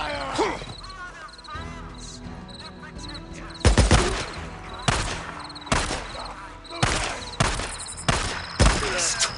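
Gunfire in Days Gone, a string of loud sharp shots repeating roughly every second, close and punchy, with a voice shouting among them.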